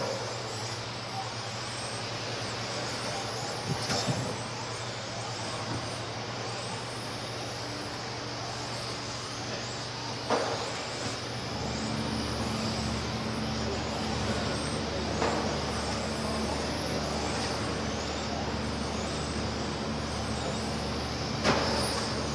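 Radio-controlled stock and modified touring cars racing on an indoor track, a steady high whine of many small electric motors under continuous crowd and PA noise, with a race announcer talking over it.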